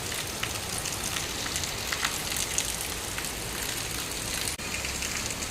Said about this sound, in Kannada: ಮಳೆ ಮಳೆ ಮಳೆ ಎಲ್ಲ ಕಡೆ ನೀರು ನೋಡಿ ನಮ್ಮ ಅಂಗಳದಲ್ಲೆಲ್ಲ